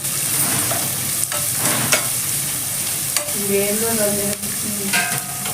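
Sliced onions fry for a chicken and fenugreek-leaf dish, giving a steady, loud, close sizzle with occasional stirring scrapes and clinks, with no talk.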